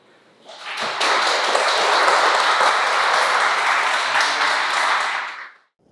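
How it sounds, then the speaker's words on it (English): A full round of applause from an audience at a formal anniversary ceremony for the Roerich Pact, dense and steady clapping that swells in quickly, holds loud for about five seconds, then stops abruptly. "So let's welcome him with a good round of applause."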